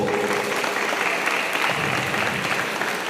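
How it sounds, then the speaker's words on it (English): Steady applause from the audience at the opening ceremony of a karate championship, a dense, continuous patter of many hands clapping at an even level for the whole stretch, with no speech over it. "Please help me to give a round of applause to"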